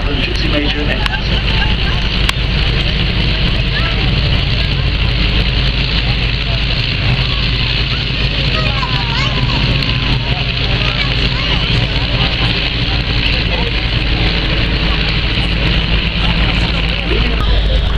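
Vintage aircraft with 130 horsepower Gypsy Major engines fly at an airshow, a steady droning engine roar mixed with wind noise that stays loud and unbroken throughout.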